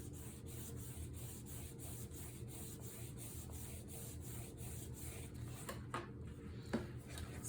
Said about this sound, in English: I'm going to use my bone folder to press this down